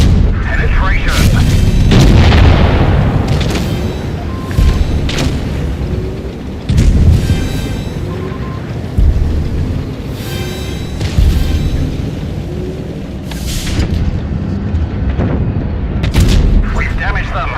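Tank cannon shots, shell hits and heavy explosions from a World of Tanks Blitz battle boom in repeated bursts, some close and loud, others farther off, with short synthetic voice callouts between them.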